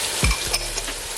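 Spices being stirred in a pan, chili powder, cumin and salt, for a kofta and spinach curry: a short burst of scraping and sizzling with one dull knock, loud and close.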